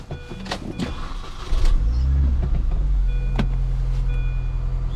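A Lexus IS300 engine cooling fan starts up and runs as a steady whirring drone under the idling car, with a few faint clicks and thumps before it settles.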